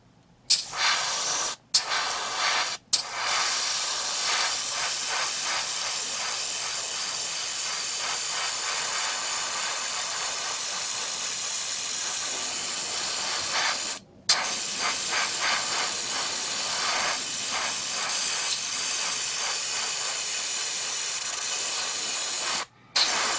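An airbrush sprays metal black paint onto a 1/60 PG Unleashed Nu Gundam model, a loud steady close hiss that runs almost the whole time, broken by a few short pauses.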